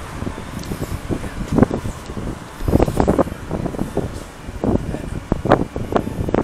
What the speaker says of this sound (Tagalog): Sarap tumambay dito, mahangin.